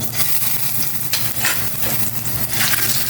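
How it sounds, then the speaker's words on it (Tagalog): Steady, close sizzling and crackling of four hotdogs frying in a pan, continuous throughout with no voices. "Prito naman ako na hotdog"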